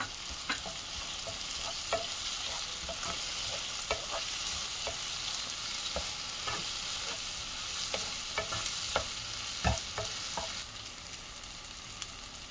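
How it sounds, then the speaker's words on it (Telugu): Ginger-garlic paste is stirred into frying onion, green chilli and tomato for a green peas masala curry, with frequent light utensil clinks and scrapes over a steady close sizzle. "ఆఫ్ వేగినాక అల్లం వెల్లుల్లి స్పూను వేసేసుకొని తిప్పేది"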